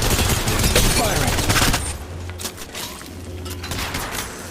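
Dense video-game gunfire bursts out loud at first, then thinning into scattered shots and softer clatter.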